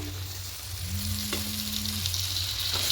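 Cauliflower sautéing in a spice paste in a pan, a loud, steady close-up sizzle with a faint low hum and a light utensil tap or two, no voices.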